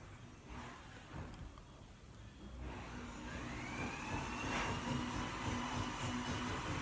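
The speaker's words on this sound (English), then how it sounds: "that's the sound of a plumber doing some augering" A plumber runs a drain auger to clear a clogged sink, giving a steady mechanical whir and grinding drone that builds louder partway through and holds, with a faint rising whine.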